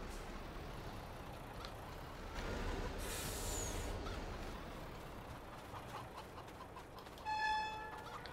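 Chickens in the farming video game Farming Simulator 22, heard as a short burst of faint clucking near the end over a quiet, steady low background hum.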